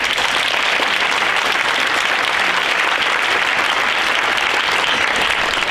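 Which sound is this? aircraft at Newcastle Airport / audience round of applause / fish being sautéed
audience round of applause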